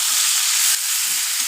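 Potato and egg curry sautés in a pan, a loud continuous hiss of frying oil that holds steady through the whole short moment, close and without voices.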